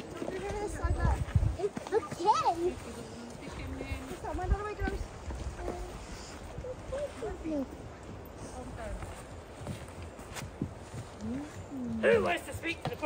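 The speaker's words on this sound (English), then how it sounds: "It's horses, look, Florence." Horse hooves clip-clop at a steady walking pace outdoors, with people talking and chatting nearby over the footfalls.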